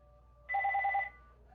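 A telephone rings once in a short electronic warble of rapid repeated pulses lasting about half a second, clear and fairly close against a quiet room background.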